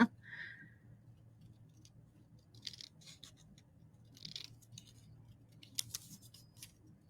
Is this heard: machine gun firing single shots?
no